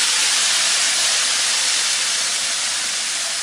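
Ground spice paste dropped into hot oil with fried shrimp paste (terasi) in an Indonesian home kitchen, a loud steady sizzling hiss that stays constant throughout, heard alone.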